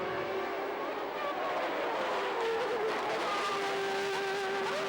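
Formula One cars roaring off the line at the 1989 Brazilian Grand Prix, a blur of high-pitched engine wails rising and shifting in pitch, heard from a distance over crowd-like noise.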